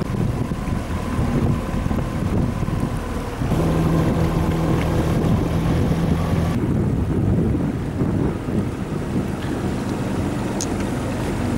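Motorboat on the Danube Delta, a loud steady engine drone mixed with heavy wind buffeting that continues throughout, with the tone shifting partway as the boat draws nearer.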